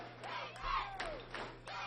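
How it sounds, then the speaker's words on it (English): A youth baseball crowd from Holmes County chants in unison during an extra-inning game in Sebring, a rhythmic group call heard at a distance, modest in volume with a low background hum. "A chant of defense from the Holmes County crowd."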